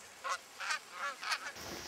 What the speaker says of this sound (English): These geese have decided to come in